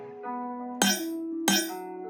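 A synth preset from Vital plays bright, glassy bell-like tones, two sharp struck attacks ringing out over sustained pitched notes, clean and alone.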